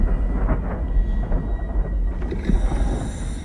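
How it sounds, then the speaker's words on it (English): Deep, dull thunderstorm rumble in the underwater horror game SOMA, a low continuous roar with faint shifting swells, steady throughout and without any speech. "Was the sound of a thunderstorm"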